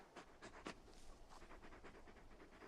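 Big wolfhound companion in Final Fantasy XVI pants in quick, breathy bursts, a rhythmic series of soft huffs over quiet game ambience with no talk.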